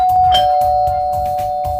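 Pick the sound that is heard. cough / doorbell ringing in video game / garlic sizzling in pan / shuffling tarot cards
doorbell ringing in video game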